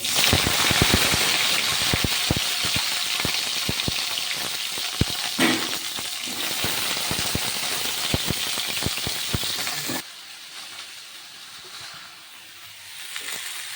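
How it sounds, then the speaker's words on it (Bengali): Cauliflower florets and potato pieces fry in hot oil with a loud, close, crackling sizzle and scattered stirring clicks, until the sound drops abruptly to a muffled low hiss. "আর ফুলকপি আলুগুলো ভেজে নেব।"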